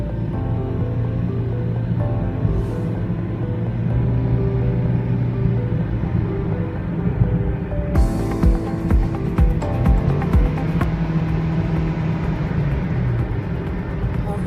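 A Toyota Aqua hybrid car accelerates at full throttle on a Pakistani highway, a steady loud engine and road drone rising in pitch, with wind and tyre roar growing stronger toward the end.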